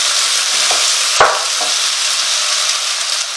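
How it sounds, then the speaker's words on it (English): Beef stew stirred in a pot with red wine, simmering; a continuous bubbling sizzle with a single clear scrape of the spoon partway through, close and alone without talk. "Give that a stir."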